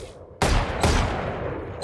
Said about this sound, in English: This gun is the Guardian